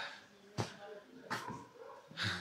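Dogs at a roadside dhaba in the Zanskar valley give three short yips and whimpers, close and fairly quiet, spaced about a second apart with soft talk nearby.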